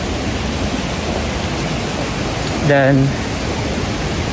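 A river rushes steadily beside a forest trail near Curug Cikawah waterfall, a constant broadband wash of flowing water with a short spoken word cutting in briefly near the end.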